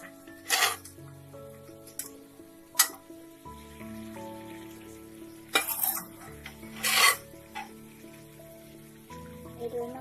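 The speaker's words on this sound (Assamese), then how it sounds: "কঁঠালখিনি এতিয়া মছলাৰ লগত অলপমান ভাজি ল'লে টেষ্টটো আৰু বেছি ভাল হয়" Raw jackfruit pieces with boiled potato fry in masala in a kadai pan, soft sizzling under a spatula that stirs and scrapes against the metal in several sharp, separate strokes.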